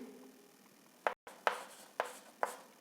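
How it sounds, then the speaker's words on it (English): Pen scratching on paper while a Class 10 maths trigonometry example is worked out: four short, quiet strokes spaced roughly half a second apart against a faint room hush. "so if I write like this"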